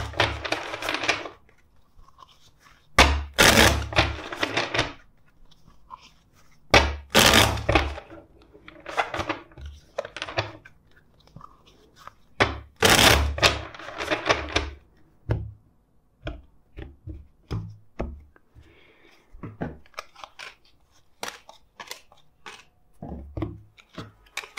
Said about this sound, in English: Let's shuffle this deck